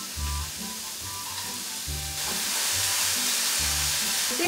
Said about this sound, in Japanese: 具材が切れたので炒めていきます